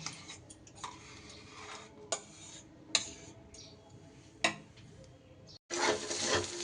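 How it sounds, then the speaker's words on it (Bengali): A spoon scoops ground paneer paste out of a mixer grinder jar into another bowl, making a series of sharp metallic clinks and scrapes spaced a second or so apart, fairly close and otherwise quiet. "মিক্সির বাটি থেকে এবার এটা চামচের সাহায্যে একটা অন্য বাটিতে এটাকে তুলে নিচ্ছি।"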